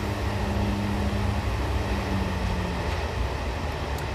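Train rumbling steadily across a big viaduct in a train simulator game, a continuous low rolling drone with a faint hum, no talking.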